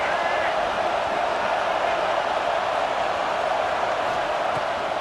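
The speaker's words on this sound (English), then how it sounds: "this crowd is at fever pitch" Stadium crowd roaring at fever pitch during a red-zone third down in EA Sports College Football 26, a dense, unbroken wash of cheering noise held at a constant level throughout.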